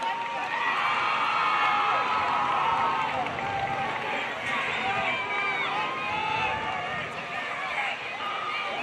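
Crowd cheering and whooping in a continuous roar of many voices during a halftime kick attempt at a 2019 Clinton vs Odessa football game, loud and sustained throughout.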